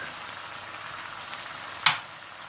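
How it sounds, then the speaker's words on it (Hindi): Ginger chicken spices, crushed roasted cumin and coriander with tomato, turmeric and red chilli, frying in a pan, giving a steady low sizzle with one sharp crackling burst near the end, no talking. "कुटा हुआ और भुना हुआ जीरा, कुटा हुआ भुना हुआ धनिया डालकर अच्छी तरह से भून लें।"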